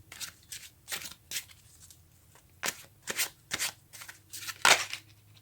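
Tarot cards are shuffled by hand in quiet, repeated riffling bursts, each a soft papery flutter, coming in two clusters with a short pause between.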